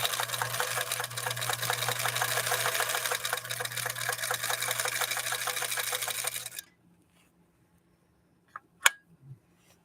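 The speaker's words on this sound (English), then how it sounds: "We'll go ahead and buzz down this and see what we think of this shorter stitch." A 1954 Husqvarna sewing machine buzzes through a run of short stitches, a fast steady hum for several seconds before stopping abruptly, followed by a couple of faint clicks in the quiet.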